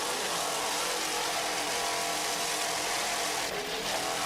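Two 500-horsepower Mercury engines on an offshore racing boat at a Fort Lauderdale race roar in a dense, steady drone, loud and close, blending with rushing wind and water noise, with no talking.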